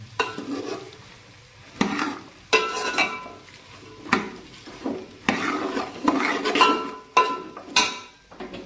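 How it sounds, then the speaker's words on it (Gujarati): Spiny gourd (kakoda) roasting in oil in a pan, a soft continuous sizzle broken by repeated sharp scrapes and clinks of a spoon stirring against the metal, close and without talk. "એકદમ તેલમાં શેકી લેવાના છે એકદમ તેલમાં શેકવાથી મિત્રો જોરદાર લાગશે"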